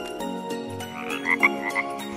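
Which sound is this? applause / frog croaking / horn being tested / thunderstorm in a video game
frog croaking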